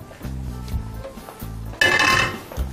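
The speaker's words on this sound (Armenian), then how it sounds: "Տապակը հայտնվում է գազօջախին։" A metal frying pan set down on a gas stove: low clanks and scraping knocks repeat at intervals, then a bright metallic clatter and hiss rises briefly before fading, with no talking.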